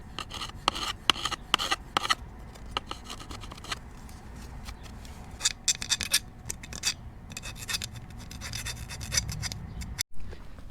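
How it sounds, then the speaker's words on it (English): Rough, scraping abrasion runs through the whole stretch as painted coating is worked off a metal surface ahead of flux-core welding, with bursts of rasping strokes up close and no talk. "We're gonna have to grind off some of this painted coating right here so we can tack this on."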